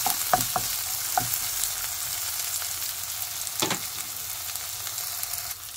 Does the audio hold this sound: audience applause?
no